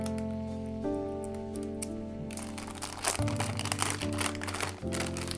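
Plastic packaging of reusable valveless face masks being opened, a steady crinkling and rustling of wrappers that grows busier and louder partway through, heard over a continuous background hum.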